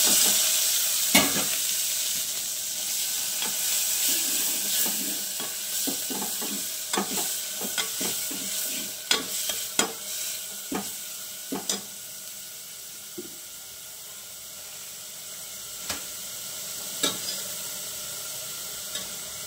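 Onions and curry sizzle steadily in a frying pan for pindi kura, with sharp scraping clicks from a spoon stirring at irregular intervals over the constant hiss.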